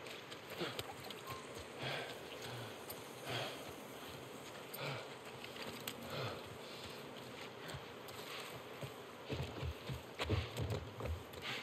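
Horse hooves clip-clop at a walking pace amid snorts and sniffs, with an ambient hum running underneath, in the video game The Last of Us Part I.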